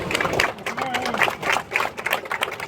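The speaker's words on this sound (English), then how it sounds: "How about we give a level 2 round of applause for our ground crew." Crowd applause at an airshow for the ground crew, a short stretch of scattered clapping heard under a voice speaking and background chatter.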